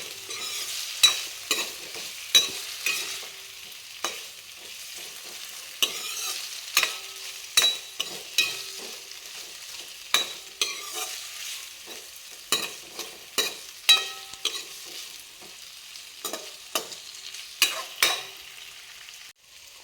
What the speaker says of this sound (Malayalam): നമുക്കിത് ഡീപ്പ് ഫ്രൈ ചെയ്യണ്ട, ഒരു ഷാലോ ഫ്രൈ ചെയ്താൽ മതി.